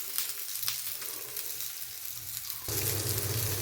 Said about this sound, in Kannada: ನೋಡಿ, ಈ ಥರ ಫ್ರೈ ಆಗಬೇಕು.